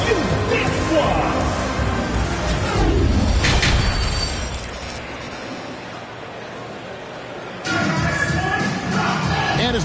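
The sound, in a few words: crowd applause and cheering in NBA 2K25 video game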